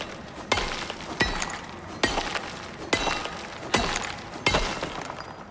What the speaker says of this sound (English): I'm busy using this rare pickaxe